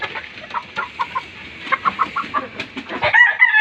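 Young Peruvian gamefowl, about four months old, cluck in a quick run of short repeated calls close by, then a crow rises near the end.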